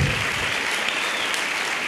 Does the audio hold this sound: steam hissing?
no